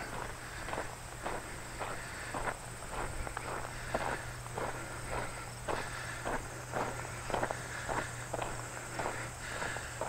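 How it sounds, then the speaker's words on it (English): Footsteps on a park trail at Tawas Point State Park in Michigan, a steady, fairly quiet walking rhythm of regular crunching steps with no talk. "Take a little walk"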